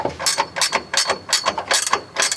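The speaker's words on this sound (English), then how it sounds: "I can just go and tighten these down." Ratchet clicking in quick bursts while tightening the strut top mount nuts on a BMW E30, a close, steady run of sharp mechanical clicks repeating in rhythmic strokes with no talk.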